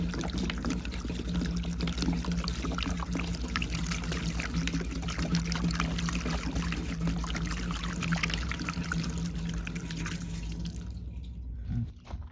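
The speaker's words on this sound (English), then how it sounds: "So now that you have the funnel in there, pour the white vinegar." Distilled white vinegar poured through a funnel into the gas tank of a 1980 Mercedes 450SL, a steady close gurgling trickle that runs unbroken for about eleven seconds before tapering off.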